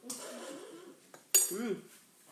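Metal spoons clink against dishes as children taste strawberry yogurt cake batter during a baking session, giving a few sharp clinks between stretches of talking voices.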